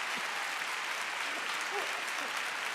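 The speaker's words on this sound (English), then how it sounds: "I applaud myself" Steady applause runs the whole length at a low level, soft and continuous with no voices above it.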